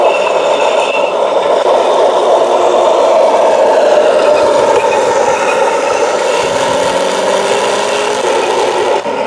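A radio-controlled StuG III tank's sound unit plays a steady, loud simulated engine drone at scale speed, with a continuous rumble and faint mechanical scraping running throughout.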